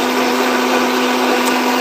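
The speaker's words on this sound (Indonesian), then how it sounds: "Blender semua." Whole eggs, shells left out, being blended for a homemade fruit fertilizer booster: a loud, steady electric blender whine holding one constant pitch throughout, with no speech.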